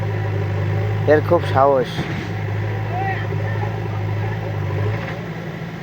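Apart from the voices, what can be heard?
JCB excavator engine running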